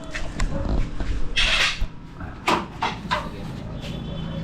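A drawer slides open with a few scraping, clattering bursts of wood or metal runners, close by and uneven, against a steady background hum.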